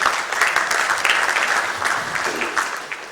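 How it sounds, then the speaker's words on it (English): Applause from a panel discussion audience, steady dense clapping filling the room for a few seconds with faint murmurs underneath. "I think if you could just give him a round of applause, please."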